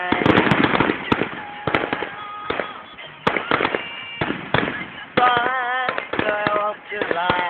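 Carnival fireworks at Langer Park, recorded from across the water at Felixstowe, pop and crackle in a dense, irregular run of sharp bursts. Faint voices and music carry through underneath.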